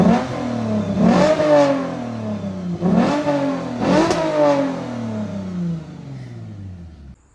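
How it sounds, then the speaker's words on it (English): A 2006 Lexus IS350 with muffler and resonator deleted and a Vibrant resonator fitted revs hard three times, each rasping climb dropping back before the next, loud and close. "I'll put an exhaust clip in here for you guys as well."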